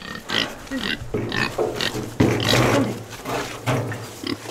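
Hungry farm pigs grunt and squeal in a continuous, busy chorus close by, with overlapping snorts and a louder burst midway as they are moved along.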